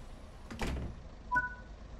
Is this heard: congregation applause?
no